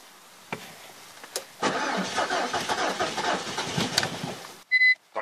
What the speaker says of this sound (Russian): Все, машина завелась, обороты пошли.